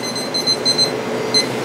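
A kitchen timer beeps in short bright bursts, a cluster of quick beeps followed by a pause and another beep, loud and close in a kitchen while bagels bake.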